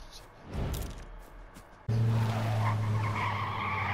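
A sports car's tires screech in a skid in a video game, followed by a loud, steady engine roar.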